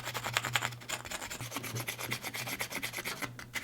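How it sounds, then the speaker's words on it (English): A knife spine scrapes along a freshly carved wooden spoon, smoothing down ridges in quick repeated rasping strokes, close and continuous with a rough, dry texture and no voices. "take the spine of your knife, if you know you've got a 90-degree spine, and begin to just sort of work at smoothing out some of those peaks"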